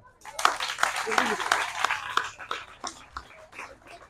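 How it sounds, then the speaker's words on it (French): An audience claps at a school championship final, scattered hand claps rising and fading over a few seconds, mixed with voices and background chatter. "On les applaudit."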